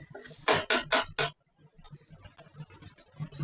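A utensil scrapes and clinks in a pan as a mustard, poppy seed, cashew and curd paste is stirred for doi pabda. Four loud strokes come first, followed by quieter scattered scrapes.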